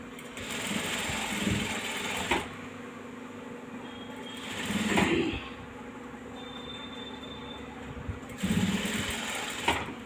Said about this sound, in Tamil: அந்த பைப்பிங்க்கு வெளிப்பக்கமாக வர்ற மாதிரி ஒரு தையல் போட்டு உட்கார வைக்கிறேன்